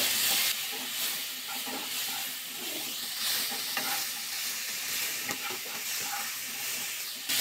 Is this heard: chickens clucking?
no